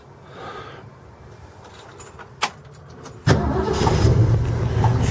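A 1964 Ford Mustang V8 is started with the key: a few faint clicks and key rattles, then the engine catches abruptly and settles into a loud, steady, rumbling idle, heard close up.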